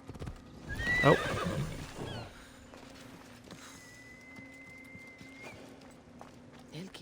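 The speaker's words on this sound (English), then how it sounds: "I'll just steal a horse." A horse in the video game Assassin's Creed Odyssey gives a loud whinny near the start, then its hooves clip-clop in a steady rhythm. A brief exclamation is heard.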